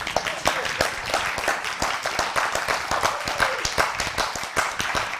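A church audience claps in a fast, uneven burst of applause, many hands at once, fairly close and sustained throughout.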